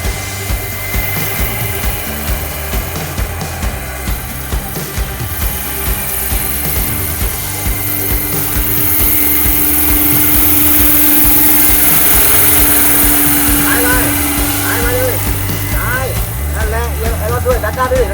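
A radio-controlled scale UH-60 Black Hawk model helicopter in US Army livery runs loudly and steadily with a whirring, choppy rotor drone and mechanical rattle, while people talk nearby.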